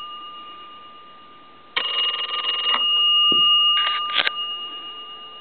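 A repaired Deco Tel chest-style telephone gives one sharp ringing burst of its bell, followed by a few shorter clattering rings and clicks close by.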